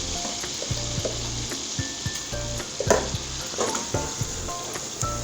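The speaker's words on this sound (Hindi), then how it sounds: "इसको हल्का सा 1 मिनट के लिए हमने फ्राई करना है ताकि इसका कच्चापन निकल जाए" Garlic-ginger paste frying in a pan for a potato egg curry, a constant close crackling sizzle with light spoon taps and stirring clinks throughout.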